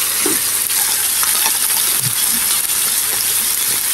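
Fish, cabbage, potato, onion and ginger frying in a pan, a continuous close sizzle with scattered clinks and scraping stirs of a utensil against the pan throughout; no talking.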